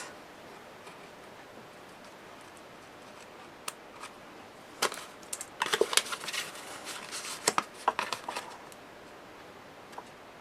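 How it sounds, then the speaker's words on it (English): Scissors cutting the corners off paper for a photo mini album, a few quiet snips then a cluster of crisp cuts and rustles, close and faint over a low background hiss. "Going to cut these off."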